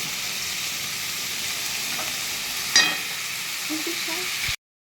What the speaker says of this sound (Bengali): আমি ভালো করে সতে করে নেব মানে হাই ফ্লেমে সতেটা করছি যাতে জল না বেরোয়